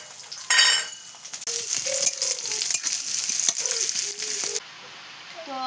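Leafy greens fry with onion, chilli and garlic in a hot pan, a steady close sizzle broken by scraping stirs and metal clinks before the sizzle suddenly drops near the end.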